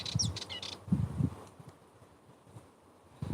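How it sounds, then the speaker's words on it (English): Birds chirp in a calm outdoor setting with a breeze and distant sea, brief high tweets at the start and again near the end over a faint, quiet ambient background. "Enjoy the sound of the birds."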